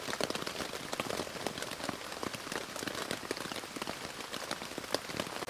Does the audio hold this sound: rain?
yes